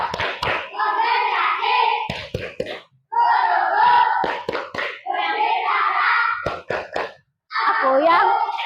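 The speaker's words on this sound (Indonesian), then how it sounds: "Ayo kita tepuk konsentrasi." Children chanting and clapping the tepuk konsentrasi concentration routine in a classroom, with groups of sharp synchronized claps breaking up loud rhythmic group chanting in short repeated phrases.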